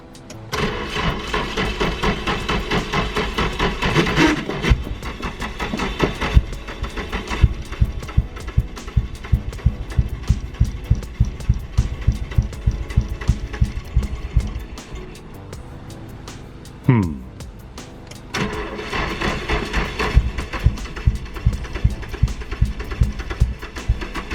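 A Nissan SR20 engine, off the road for years and running on old fuel, cranks in long rhythmic bursts of starter chugging, pauses, then briefly catches with a surging rev before cranking again, loud and close.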